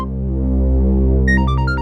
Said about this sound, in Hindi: मेरा फोन है, मुझे लेने दो।